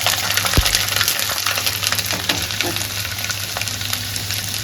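Garlic frying in hot peanut oil in a pan with mustard seeds, a steady dense crackling sizzle throughout, close and loud, with a few sharper pops and no talking.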